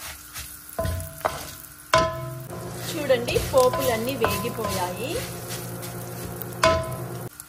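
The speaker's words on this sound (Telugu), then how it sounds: "పోపులన్నీ వేగిపోయాయి." Spices for a coriander-stem and mint chutney tempering in hot oil, a loud sizzle that flares at each stir with clanks of the spoon against the pan, while someone talks over the cooking.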